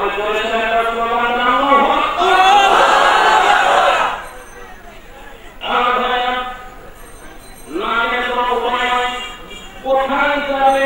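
Crowd chanting a slogan in unison, loud massed voices in repeated call-like bursts separated by short pauses, with a lead voice prompting between chants.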